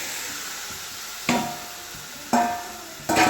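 Quartered tomatoes, about half a kilo, in a dry kadai with no oil over a gas flame, hiss in three sharp sizzling bursts, each fading into a soft steady steam hiss.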